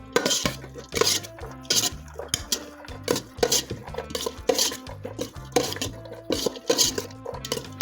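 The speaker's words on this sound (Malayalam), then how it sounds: "ഇതിനെ നമ്മൾ ഇളക്കി എല്ലാം കൂട്ടുന്നു നന്നായിട്ട് മിക്സ് ചെയ്യണം" A puffed rice mixture is stirred and mixed in a bowl, with repeated rhythmic scraping and clinking strokes of a utensil against the dish, close and steady with no talking.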